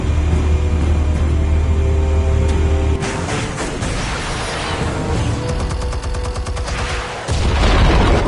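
Explosives detonating in Batman The Telltale Series, a sudden loud burst of rumbling, crackling blasts and debris that rolls on for several seconds and ends in a deep low thud.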